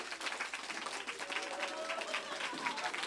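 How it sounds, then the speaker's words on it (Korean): Applause from a church congregation during a Sunday service, a steady patter of clapping at moderate distance, fairly quiet and mixed with faint room murmur. "자, 박수합시다."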